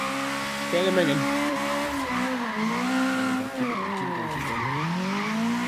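A Toyota AE86 with stock handling and low power, drifting through a suburb in Forza Horizon 3. Its tires give a loud, continuous squeal that bends and wavers as the car snakes to hold the drift, with the engine droning underneath.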